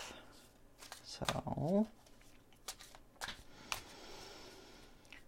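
Tarot cards are shuffled in short, soft bursts of riffling and sliding, quiet and close, with a single spoken word between them.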